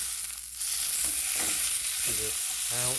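A steak sears loudly in a hot pan after being flipped, a steady close sizzle with brief scraping and stirring sounds mixed in.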